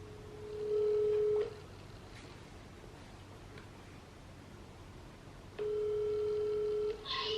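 A telephone call is being placed: two long, steady ringback tones sound a few seconds apart over quiet line hiss, with a soft click between them.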